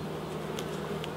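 Honeybees hum steadily around an open hive in the UK during an Apiguard treatment, a close, even drone with a few brief louder buzzes as individual bees pass by.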